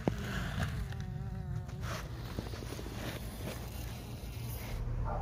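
Honey bees buzz steadily around a hive inside a water meter box during a bee rescue, a dense close drone that runs the whole clip with a few louder passes near the microphone.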